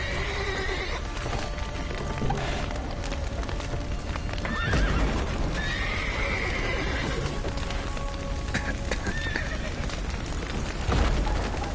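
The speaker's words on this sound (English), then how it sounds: "The horses." Horses in The Witcher 3 neigh and whinny several times over clip-clopping hooves, set against loud game ambience with crackling, splintering wood and people talking.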